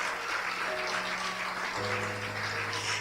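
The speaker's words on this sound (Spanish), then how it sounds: "Denle un aplauso al Espíritu de Dios." Congregation applauding during a church sermon on marriage: a dense, steady wash of clapping across all three seconds, with sustained keyboard-like tones sounding underneath and growing fuller partway through.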